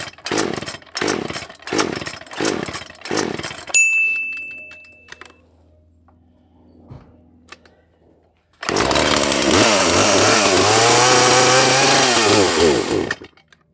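An old two-stroke gas chainsaw of about 15 years, with trouble in its carburetor and choke, revs loud and close for several seconds after a stretch of sharp taps and quiet, then cuts off.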